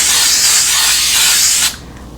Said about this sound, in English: I'll spray my pan, but then I also spray it one more time right before I pour the batter in there